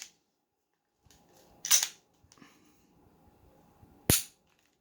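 A BRG9 pistol magazine drops free and snaps home into an XD9 pistol, giving two sharp, close clicks about two seconds apart with faint handling noise between them.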